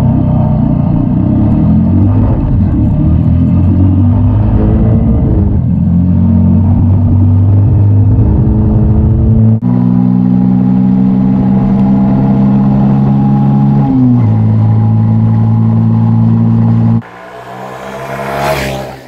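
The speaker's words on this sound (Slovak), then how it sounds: "Motor jednoválček si potiahne aj v nižších otáčkach bez toho, že by si musel podkvaltovať." A 2022 Honda Monkey with a single-cylinder engine is ridden on a road, its steady mid-pitched engine drone running loud and close for most of the ride, with shifting tone as revs change and a brief drop near the end.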